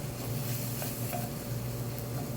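Butter chicken pieces sizzle steadily in a hot pan and are flipped, a continuous close frying hiss with a few faint scrapes and clinks.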